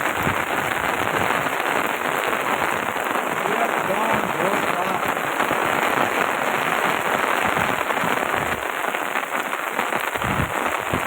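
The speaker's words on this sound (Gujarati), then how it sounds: "ફૂલ વરસાદ છે અત્યારના રાજુલામાં, એકદમ જોરદાર. વાદળાઓ ગાજવા માંડ્યા છે." Heavy rain pouring down in Rajula, Gujarat, a dense, steady hiss of drops hitting surfaces close by, with low rumbles underneath that could be distant thunder.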